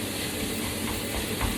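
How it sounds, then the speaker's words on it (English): Minced meat frying hard in hot oil in a pan for cottage pie, giving a steady, dense sizzle and hiss that carries on without a break at close range. "when it's frying quite hard in the oil, you can hear it sizzling"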